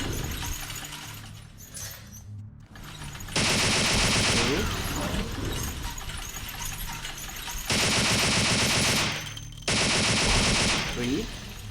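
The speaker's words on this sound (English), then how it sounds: "given the angle of my attacks here, so I'll have to shoot them." Gunfire in the video game Vampire the Masquerade Bloodlines comes in three loud, sustained bursts of rapid shots, with glass shattering and game sounds between the bursts.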